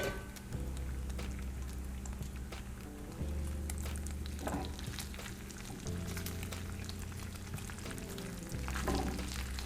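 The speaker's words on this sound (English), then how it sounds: "I'm gonna let that bacon cook." Bacon sizzles and crackles steadily in a pan, a close, even frying hiss with occasional pops, while a low steady hum sits underneath.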